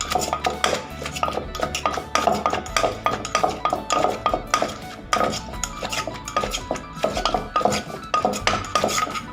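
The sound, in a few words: tossing long bean papaya salad with utensils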